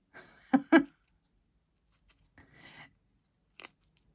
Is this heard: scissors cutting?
yes